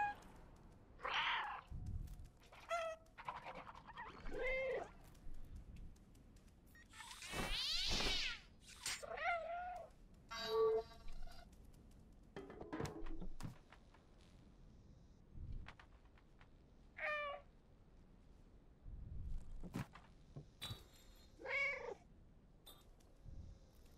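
A cat in the video game Stray gives repeated meows and a purr-like caterwaul, scattered across a long, otherwise quiet stretch with faint ambient sounds, fairly close and clear.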